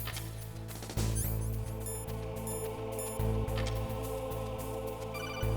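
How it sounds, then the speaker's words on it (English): A telephone rings in repeated bright bursts, loud and close, over a busy backdrop of music and electronic sounds. "I'm not answering the phone. I don't care."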